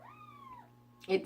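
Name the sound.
cat meowing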